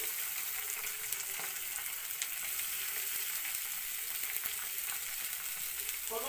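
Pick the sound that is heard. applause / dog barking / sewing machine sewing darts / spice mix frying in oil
spice mix frying in oil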